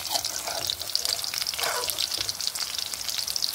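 Okra fries in a pan for an Andhra village-style Kadapa chutney, with a close, crackling sizzle and brief scraping stirs that rise and fall, and no voices.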